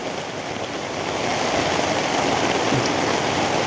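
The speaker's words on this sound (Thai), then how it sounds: "ดูนะ ฝนตกอ่ะ" Steady rain pours down, a continuous dense hiss of drops hitting surfaces, unbroken and fairly close.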